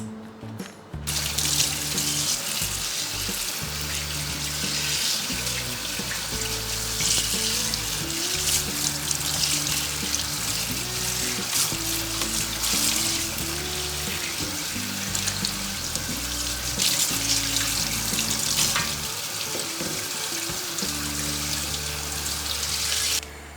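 Steady rush of running tap water into a sink, with splashing and clattering as samphire is rinsed and moved about, continuous and close.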